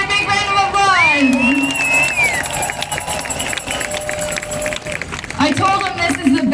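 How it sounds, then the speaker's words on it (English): Crowd clapping and cheering at a rally in Halifax beneath a speaker talking loudly over a microphone, the applause continuing steadily throughout. "Can I get another big round of applause?"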